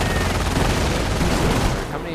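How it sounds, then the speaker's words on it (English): Sustained machine gun fire and overlapping gunshot bursts in the Company of Heroes battle game, loud and dense throughout with a faint voice underneath. "My ally has so many machine guns."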